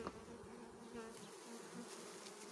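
A faint, continuous buzz of honey bees droning close by, with no voices.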